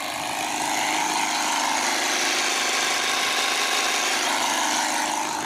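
Steady roadside traffic noise from vehicles passing beside the road. It is a continuous broadband engine and tire rush, fairly loud and unbroken for several seconds, with no voices.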